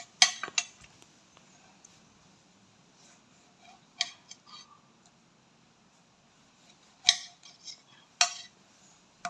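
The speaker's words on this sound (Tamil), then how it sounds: "இந்த தக்காளி வந்து வெட்ட 2 ஆகிக்கிறேன்" A knife cuts through small tomatoes on a kitchen board, making a few sharp, clicking chops spaced out over several seconds against a quiet room.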